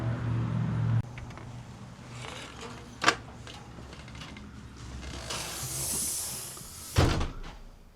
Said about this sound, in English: It's a very noisy door.